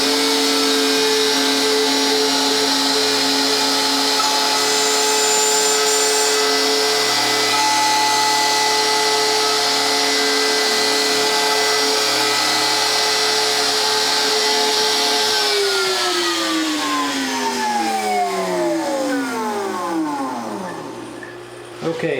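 Saddle slotting mill spinning its cutter through ebony, a steady loud high whine with a fixed pitch that holds for about fifteen seconds, then falls smoothly as the spindle winds down near the end.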